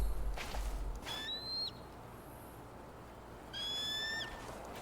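Two high, gliding bird cries from an eagle in the video game Tell Me Why, each a bright whistled sweep over a quiet ambient hum, separated by a short pause.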